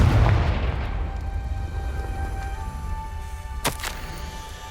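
Confringo fire spell from Hogwarts Legacy going off as a deep booming blast at the start, followed by a fading rumble and a couple of sharp crackles near the end.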